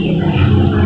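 An electric grinder runs continuously, blending tamarind and apricot pulp with water for a chutney, a loud, steady, dense whirring roar through the whole short moment with no pauses.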